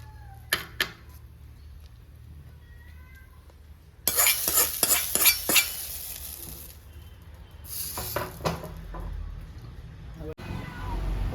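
Kerala Thrissur-style fish curry is poured into a hot pan and breaks into a loud, hissing sizzle that fades slowly. Scattered clicks and knocks from cookware come before and after, with a voice speaking at times.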